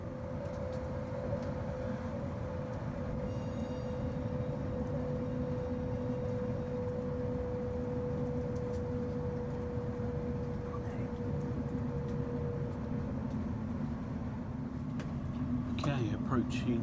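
A passenger train slowing on its approach into Leeds gives a steady low rumble of wheels on the rails with a sustained tonal whine, rattling near the end, a voice talking over it.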